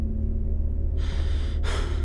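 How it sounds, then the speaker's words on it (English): Heavy breathing from the player character in the horror video game MADiSON, made of two close, loud breathy bursts over a low constant game hum. "Why are you breathing so heavily?"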